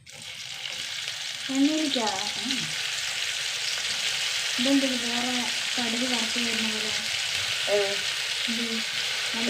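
Food frying in hot oil for a Kerala-style curry, with a steady, close sizzle running through the whole stretch while someone talks over it in several bursts.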